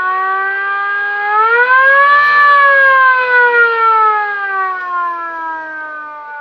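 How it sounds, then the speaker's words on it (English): A door alarm siren set off by the door opening gives a loud, clear electronic wail that rises in pitch, holds, then slowly falls again as one continuous tone, alone and close. "also there is a siren."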